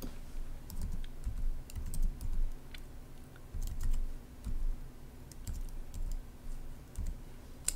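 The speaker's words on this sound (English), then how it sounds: "I'm just going to go ahead and type in my public IP" Typing on a computer keyboard entering an IP address: steady, close key clicks in quick irregular runs with brief pauses, over low background hum.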